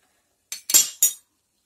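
A metal spoon clinks and scrapes inside a glass of 7up drink being mixed, three short close bursts of rattling stirring in an otherwise silent moment.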